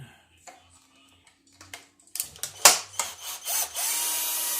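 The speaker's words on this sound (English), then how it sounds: "We'll get these screws undone." A power tool unscrewing the body screws on a Traxxas Hoss RC car, heard as a few short, sharp whirring bursts close by after a quiet stretch of small handling clicks, with no talk.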